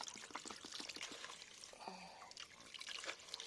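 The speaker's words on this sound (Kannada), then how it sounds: "ಈಗೇನು ಮಾಡ್ತೀನಿ ಅಂದರೆ ನಾನು ನೀರು ಹಾಕ್ತೀನಿ ಇಷ್ಟು" Water pours and splashes steadily close by, a continuous trickling gush with small drips, with no talking over it.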